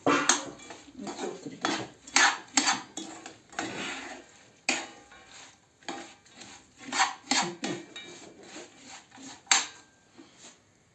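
Nuts caramelizing with butter and sugar in a pan, stirred with a utensil that scrapes and clinks against the metal in irregular bursts, close and moderately loud with short pauses.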